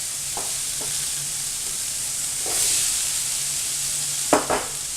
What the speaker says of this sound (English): we're gonna go ahead and we're gonna stir in the potatoes